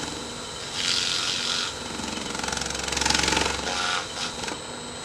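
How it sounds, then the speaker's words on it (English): Wax is buffed off a spinning chestnut oak piece on a lathe, giving a loud steady whir with rough rubbing and hissing friction that swells and fades as pressure changes, close and alone. "it's time to buff off the wax and see what we get with a natural, not like a crazy shine"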